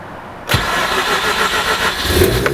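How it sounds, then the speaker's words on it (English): A Mazda RX-8 rotary engine cold start: it cranks and catches abruptly, then settles into a loud, rough, buzzy idle that rises slightly near the end. "we love to hear the sound of a cold rotary in the morning"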